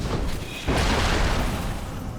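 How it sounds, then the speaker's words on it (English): Final Fantasy XIV combat explosions erupt as a dense, loud rumbling boom that swells suddenly and sustains as a broad noisy roar. "There's a lot of explosions."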